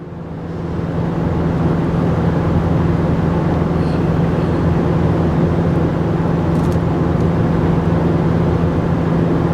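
A 2024 Chevy Silverado 3500 towing 13,000 pounds roars at wide open throttle up a steep 6% grade, a loud steady drone with a constant low hum and no letup.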